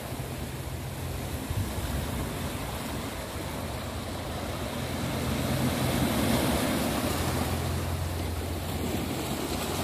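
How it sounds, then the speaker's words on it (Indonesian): Ocean waves break on the rocks below Cheung Chau beach in Hong Kong on an overcast weekday, a steady rushing wash of surf mixed with wind that swells louder toward the middle, with no voices. "di bawah sana tuh nampak batu-batuan dengan ombak silih berganti"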